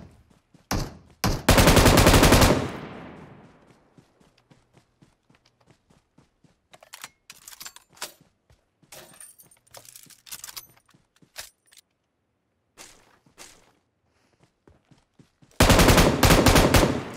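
Gunfire in PUBG Mobile: two loud bursts of rapid automatic shots, one near the start and one at the end, with scattered single cracks and clicks in between, and no voices.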